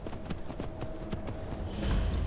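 Horse hooves in the video game Skyrim clip-clop in a quick, steady rhythm, with a rising rumble near the end.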